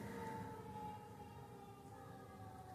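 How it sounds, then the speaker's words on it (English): An outdoor siren wails steadily in the distance, a sustained tonal drone heard through walls over a constant low hum, with no one talking. "And y'all hear that siren out there?"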